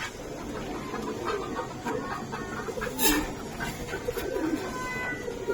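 A pair of jabra pangkhi pigeons cooing with soft, repeated murmuring calls, close by, against a steady bed of other bird and fowl noise with faint clucking in the background.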